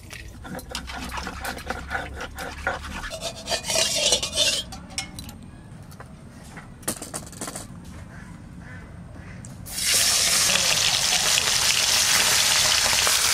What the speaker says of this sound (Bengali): সর্ষের তেল দেবো মাছ ভাজা করার জন্য।